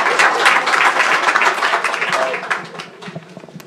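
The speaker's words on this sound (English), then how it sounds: "Let's give another round of applause to everybody" Audience applause at a mayoral candidate forum in Baltimore, a dense spread of clapping that stays steady and then thins out and fades over the final second, with a voice faintly underneath.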